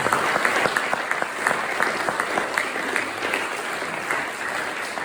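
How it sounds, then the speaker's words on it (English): Applause from the audience at a retirement party for a community organizing group, steady sustained clapping from a crowd at moderate distance, filling the whole stretch without talk. "just give you another round of applause"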